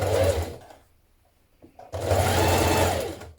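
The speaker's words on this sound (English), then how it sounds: "So just fold it twice and pin it and then stitch it in place." A single-needle sewing machine stitches a folded, pinned hem on a beginner vest top in two loud bursts of steady mechanical whirring, with a short quiet gap between them.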